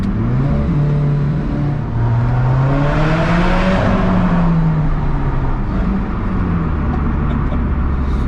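Alfa Romeo 4C with its 1.75 litre turbocharged engine accelerating, a loud, steady engine tone rising in pitch through the gears and then settling, close and continuous with no talk.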